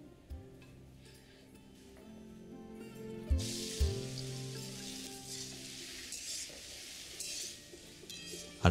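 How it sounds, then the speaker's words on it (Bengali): Potatoes dropped into hot mustard oil in a wok, with a couple of thumps followed by a sudden loud, bright sizzle that continues steadily with spattering crackles. "এবার একটা কড়াইতে নিয়ে নিচ্ছি সর্ষের তেল, তাতে আমরা আলুগুলোকে ভেজে নেব।"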